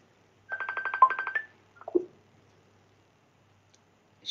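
A phone rings with a short repeating electronic ringtone burst of rapid pulses, followed by a brief descending tone, then quiet, indoors and fairly close.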